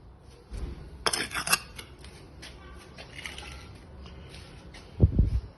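Chemically softened mineral plaster being scraped off a wall, a few brief gritty scrapes and rasps close by, ending in a louder knock, with quiet pauses between.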